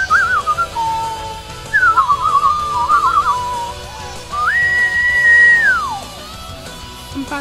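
A person whistles birdlike phrases in imitation of a finch: short warbling trills, then a long sustained rising-and-falling note, loud and close over a steady background hum.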